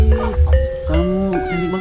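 A Dutch-breed cat meows several times in quick succession, drawn-out and whining, close and clear with no talk.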